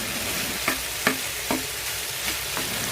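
Potato bhaji frying in a pan gives a steady close sizzle, broken by a few sharp scrapes and clicks as it is stirred.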